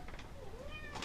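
A cat cries beside the cook in a tiny kitchen, giving a drawn-out meow over low background room noise.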